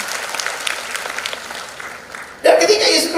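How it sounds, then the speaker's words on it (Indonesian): Church congregation at a GBI GLOW FC Bali revival service breaks into loud applause after a spell of quieter sound and a voice, the clapping surging in suddenly and staying strong to the end. "Berikan tepuk tangan yang meriah buat Tuhan"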